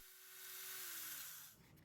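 A power drill whirs briefly while backing screws out of a small engine's front cover, a high steady whine that holds for over a second and then stops abruptly, close and alone.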